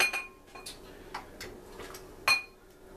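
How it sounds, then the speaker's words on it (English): Crockpot stew is ladled into a bowl with scattered light clinks and taps of a ladle against the pot and bowl, quiet and close, separated by short gaps of near silence. "So I'll dish him out a bowl."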